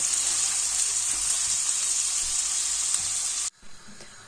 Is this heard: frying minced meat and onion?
yes